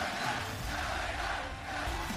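A wrestling arena crowd at a WWE Monday Night Raw event roars in a dense, continuous wash of cheering from a large audience, steady and loud throughout with no clear single voices.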